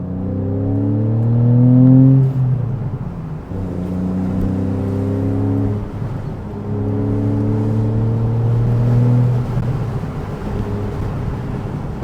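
A Porsche 911 Carrera S (991.1) with PDK transmission and sports exhaust engaged revs repeatedly, the engine note rising and falling in steady sweeps, loud and close with no talk.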